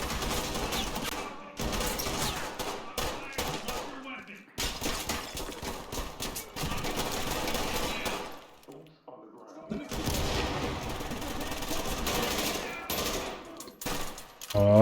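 Dense bursts of automatic gunfire in Ready or Not on a modded farm map, loud and near, nearly continuous with brief pauses, mixed with clattering impacts and a voice talking over parts of it.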